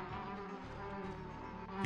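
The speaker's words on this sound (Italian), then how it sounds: "I cazzi tuoi, mosca?" A housefly buzzes close and steady in a platform game, droning on without a break for the whole stretch.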